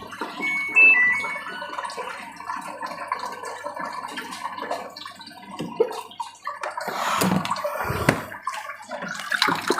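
Water runs steadily into a Samsung washing machine drum during a repair, a continuous filling rush with a brief louder surge near the end.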